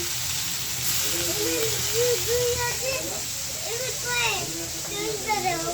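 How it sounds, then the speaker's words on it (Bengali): Shrimp coated in turmeric and salt fry in hot oil with a steady, close sizzle and hiss, while a voice talks throughout over the crackle. "আর চিংড়ি মাছটা এখন ভাইজা নেব"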